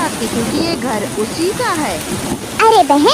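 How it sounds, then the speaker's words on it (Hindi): Steady, heavy rain hisses throughout beneath animated voices talking, with no pause in the downpour. "बाहर बहुत तेज बारिश हो रही है।"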